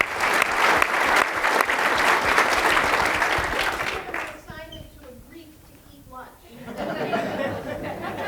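A full audience applauds a panel at a film and TV industry town hall, loud sustained clapping with chatter that fades midway as a voice speaks over the thinning crowd, then the applause swells again.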